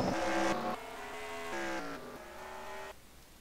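Race cars in NASCAR Racing 2003 at Pocono roar loudly and continuously close by, their engine tones stepping up and shifting as they sprint back to the line after a caution.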